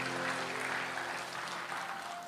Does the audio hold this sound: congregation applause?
yes